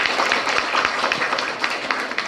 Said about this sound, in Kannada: ಜೋರಿ ಚಪ್ಪಾಳೆ ಕೊಡಿ